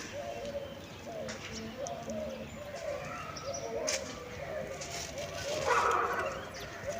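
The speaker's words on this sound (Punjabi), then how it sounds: "ਪੰਛੀਆਂ ਦੀ ਚਹਿਚਹਾਹਟ ਬਹੁਤ ਵਧੀਆ ਲੱਗਦੀ ਹੈ ਨਾ" Birds chirp repeatedly at a distance in a soft, rhythmic pattern on a cool morning outdoors over faint background noise, with a few sharper sounds near the end.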